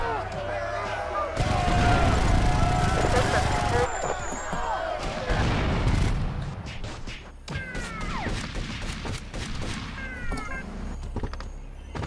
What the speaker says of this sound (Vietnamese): mình sẽ xả súng cho nó thiệt nhanh luôn